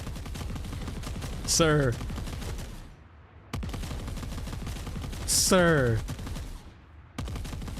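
Automatic turret in the video game Gunhead firing in rapid bursts, loud and close, with two swooping electronic tones sliding downward between volleys and a short voice calling out in the mix.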